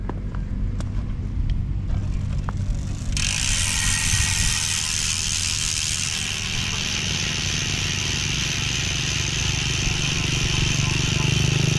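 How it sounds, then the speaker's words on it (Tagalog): A Sagmit Racing Pro RB rear hub freewheel ratchet on a road bike buzzes in a fast, continuous clicking that starts a few seconds in and keeps going at a steady, fairly loud level. "I-check natin yung tunog nito pag naka free wheel."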